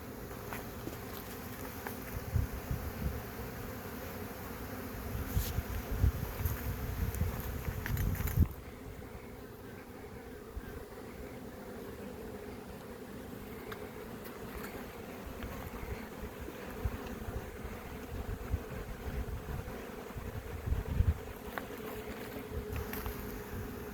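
Honeybees buzz steadily around a hive where comb is being drawn beneath newspaper, a dense continuous drone with occasional louder passes close by, no talking.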